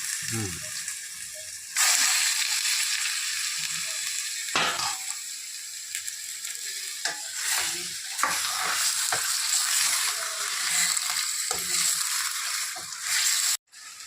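Mutton tipped into a pan of frying onion and ginger, bursting into a loud sustained sizzle with stirring scrapes and clatters, after a brief stretch of quieter stirring.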